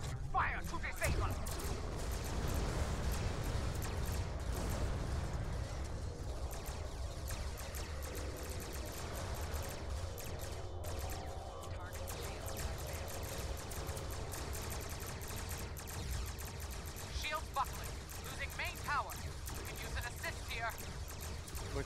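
Starship weapons fire in the Star Trek Online space battle, a continuous barrage of rapid energy shots and blasts layered over engine rumble, loud and sustained, with voices talking over the combat.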